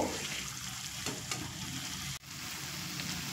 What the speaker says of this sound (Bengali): মিডিয়াম ফ্লেম করে 7 থেকে 8 মিনিট মশলার সঙ্গে চিকেনের এই কিমাটা কষিয়ে নেব